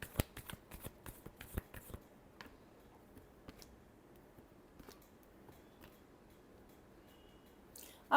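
Tarot cards are shuffled in a quick run of crisp riffling snaps at close range, then a few scattered soft taps and card flicks in a quiet room.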